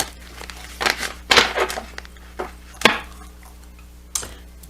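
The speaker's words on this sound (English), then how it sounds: "just do a quick shuffle for you." A tarot card deck being shuffled by hand, giving a series of crisp card riffles and snaps in separate bursts, close and moderately loud, with no talking.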